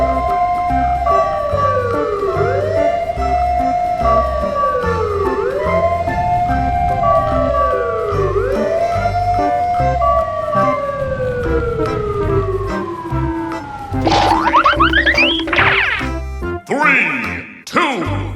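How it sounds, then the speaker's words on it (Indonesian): Fire truck siren wailing in repeated rising and falling sweeps, loud and close, then shifting to faster warbling tones near the end. "Mobil damkar."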